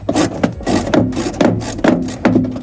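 Repeated ratcheting turns of a socket wrench backing out the higher mudguard screw during a BMW headlight install, five or six rhythmic bursts of clicking and rasping, close and fairly loud with no talk.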